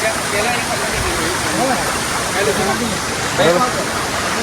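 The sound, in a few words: waterfall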